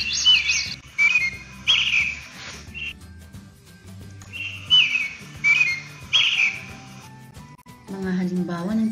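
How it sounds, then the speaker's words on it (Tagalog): Small birds chirping and whistling in short repeated bursts, with a steady lower tone underneath and a brief voice-like sound near the end. "Mga halimbawa ng tunog na kaaya-aya sa pandinig, ang huni ng mga ibon."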